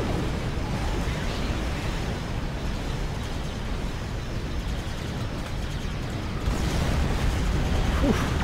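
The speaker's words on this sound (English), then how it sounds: "That explosion was the point defense bombardment warhead." Point defense bombardment warhead exploding in the Endeavor System video game, a sustained, moderately loud roaring blast texture that swells slightly toward the end.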